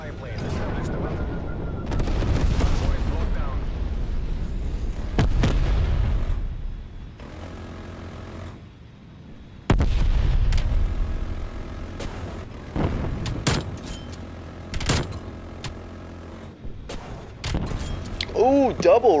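Heavy automatic gunfire and explosions from a VTOL killstreak in Call of Duty Cold War, loud sustained bursts with booming impacts and game effects, with a player's voice talking over parts of it.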